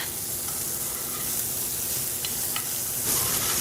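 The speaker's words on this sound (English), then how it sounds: "Finish cooking our steak." Filet mignon steak, cut smaller on a bias, fries in a pan with a steady, dense sizzle and a few faint taps and clicks, with no voices.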